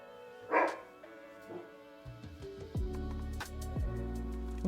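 A dog barks at the back door, a few faint, distant yaps and woofs heard indoors over a steady low hum.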